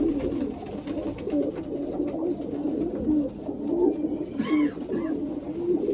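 Pigeons coo repeatedly in low, rolling throaty calls, close and fairly loud, over a busy loft background with a brief higher bird call partway through; no speech.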